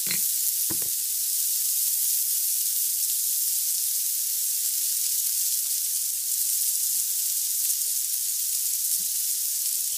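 A chocolate chip pancake fries in a hot pan, a soft, steady high sizzle with a couple of faint clicks near the start, close and continuous with no talking.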